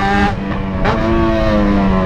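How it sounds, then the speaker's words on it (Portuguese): Yamaha XJ6 motorcycle with an aftermarket exhaust accelerating, a loud, close engine note rising steadily in pitch over about two seconds with no talking. "Acelerou, a bichinha sobe, mano. Essa motoca é braba. Essa é minha XJ6, né?"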